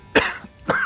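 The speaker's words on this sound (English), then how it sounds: "What started out as a acid reflux cough ended up being a I swallowed spit the wrong way cough." Two harsh coughs from a man choking on swallowed spit after acid reflux, close and loud, the second following about half a second after the first.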